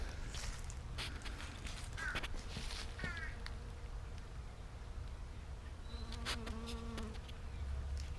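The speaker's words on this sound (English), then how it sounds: "You guys want to hear a lot of bees?" Many bees buzz in a steady, dense drone that runs the whole time, close and constant, with a few brief higher chirps and clicks rising over the swarm.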